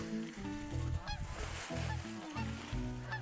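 A rooster pheasant flushes up from a field during shed antler hunting with a French Brittany dog, giving a run of harsh, honking cackles in quick rhythmic bursts, fairly faint and without talk.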